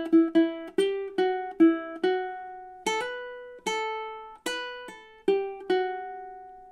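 Ukulele picking a two-measure melody in steady time, clear plucked notes with ringing decay, played alone at close range.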